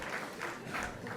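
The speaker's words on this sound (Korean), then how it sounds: "할렐루야 박수" A church congregation at a worship service claps together in a brief burst of applause, moderately loud with a slightly pulsing rhythm.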